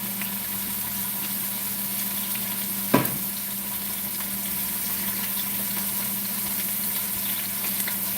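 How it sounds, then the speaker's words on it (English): Veal shanks for osso buco sear in a hot pan with a steady, close sizzle that continues evenly throughout, broken once by a brief clack of something being moved. "So we're going to sear this batch."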